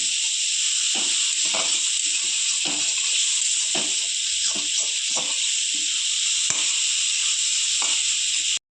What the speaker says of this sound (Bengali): হালকা লাল করে একটু সোয়াবিনগুলো ভেজে নেব।